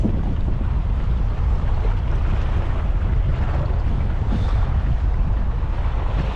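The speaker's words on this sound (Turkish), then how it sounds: "zaten çok rüzgar var. Dalga boyu çok yüksek." Strong wind roars steadily and loudly across the microphone over high waves on the Muğla coast of Turkey, with a constant rushing of sea water underneath and no voices.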